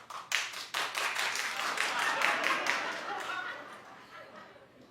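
Studio audience on a daytime talk show clapping, a few sharp claps first, then a full round of applause that swells and slowly fades, with talk over it.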